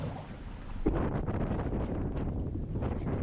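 Strong cold-front wind buffets a houseboat, a loud, steady roar of gusty wind noise hitting the microphone that swells sharply about a second in and stays heavy throughout, with no talking.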